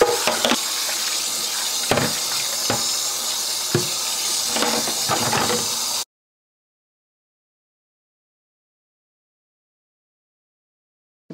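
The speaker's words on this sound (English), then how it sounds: "I've just given everything a quick wash and a rinse" Items are rinsed under a running kitchen tap into a sink, giving a steady hiss of flowing water with a few clunks of handled objects for about six seconds before it cuts to silence.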